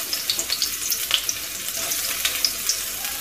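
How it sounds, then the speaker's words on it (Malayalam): Chopped small shallots frying in hot coconut oil give a steady, close hiss of crackling sizzle, dotted with brief popping spatters and no voices over it. "ഇനി വെളിച്ചെണ്ണ ചൂടായി കഴിഞ്ഞാൽ നമുക്കതിലോട്ട് അരിഞ്ഞു വെച്ചിരിക്കുന്ന ഒരു 4-5 എണ്ണം ഉണ്ട് ചെറിയ ഉള്ളി, അത് നമുക്കിട്ട് കൊടുക്കാം"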